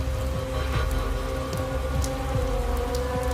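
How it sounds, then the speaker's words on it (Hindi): Steady rain falls outside with scattered drops pattering on surfaces, in a 3D animated Hindi horror cartoon set at a haunted mansion; the downpour stays constant and fairly loud with no talking. "बाहर अभी भी बारिश हो रही थी।"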